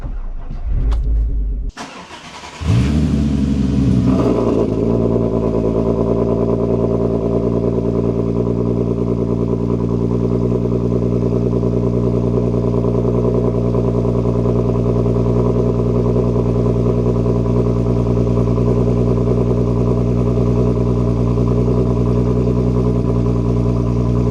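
A 3.6-litre VR6 engine in an all-wheel-drive Mk6 Volkswagen GTI, fitted with big untuned cams, starts with a short crank, then settles into a loud, lumpy, steady idle with a deep, uneven rumble, in a tunnel.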